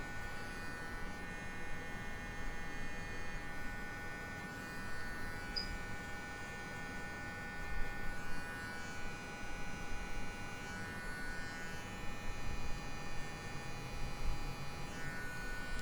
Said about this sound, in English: I turned the clipper a little bit